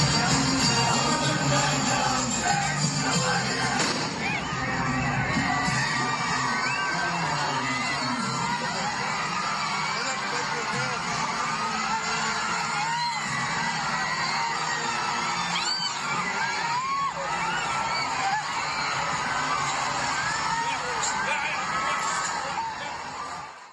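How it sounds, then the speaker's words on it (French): A panicked crowd screams and shouts continuously at a funeral in Beirut after walkie-talkie explosions, a dense, loud wall of overlapping voices throughout. "Ces scènes d'affolement, ce sont pendant des funérailles tout à l'heure à Beyrouth."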